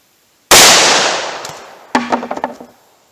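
A single .357 Magnum full-size handgun shot with a 180 grain bullet, one loud sharp crack with a long fading tail, followed by a burst of clattering rings and echoes.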